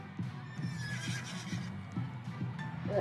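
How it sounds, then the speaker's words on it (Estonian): A cartoon horse neighs in a Peppa Pig episode, a drawn-out whinny over rhythmic clip-clop hoofbeats that repeat steadily, close and clear with no talk. "Ta on mingi hobune või?"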